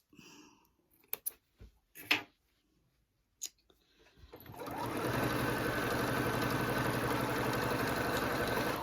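A sewing machine stitches quilt binding, kicking in after a few scattered handling clicks and running as a steady, close, continuous mechanical hum through to the end.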